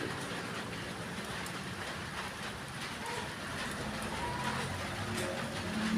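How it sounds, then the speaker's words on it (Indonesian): Steady rain falls at night, a constant even hiss of drops on surfaces that holds the same level throughout, with no other distinct sounds. "Pi hujaneun hujan turun."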